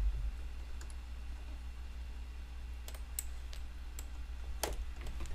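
Computer keyboard keys pressed during music production software use: a few scattered sharp clicks and taps at irregular intervals, close but light, over a steady low background hum with no talking.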